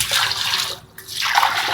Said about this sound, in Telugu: మొత్తం నేను 6 లీటర్ల 400 ml వాటర్ అయితే పోసుకుంటున్నాను.